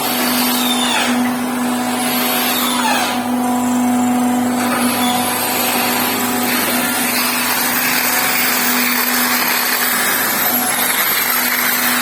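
A welded Alfa Romeo cylinder head is ground with a power grinder, giving a steady, loud, whining abrasive drone that holds for the whole stretch with shifting high-pitched scraping.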